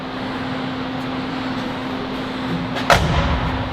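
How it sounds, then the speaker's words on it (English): Door of an older faded-red Ford truck shutting with a single solid mechanical clunk near the end, after a steady low hum. Close and loud, with no talking. "Oh, I love that sound of the door closing. It's very unique to these Fords. It has that kind of mechanical clunk."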